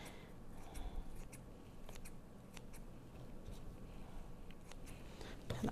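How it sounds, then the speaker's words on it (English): Kitchen shears snip repeatedly through ingredients for carrot salsa, a series of quiet, irregular cutting clicks close to the microphone in a calm kitchen with no talk. "with our kitchen shears, um, we're just gonna cut it into our quarter cup"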